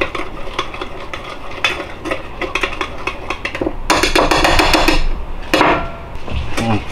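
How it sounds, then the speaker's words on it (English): Spoon or whisk clattering briskly against a bowl while coleslaw dressing with sugar, salt and pepper is mixed, with rapid clinks and scrapes building to a louder, denser burst of stirring near the end. "Start to stir that up a little bit."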